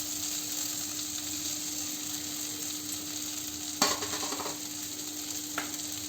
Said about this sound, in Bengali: তারপরে আমি হালকা করে একটু নাড়াচাড়া করে নিলাম মশলাটা দিয়ে